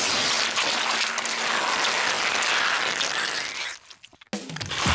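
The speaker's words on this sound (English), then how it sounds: "the crowd goes wild" Cartoon crowd roaring and cheering after the home team wins a game, a dense, loud wall of cheers and clapping that drops out abruptly near the end before returning briefly.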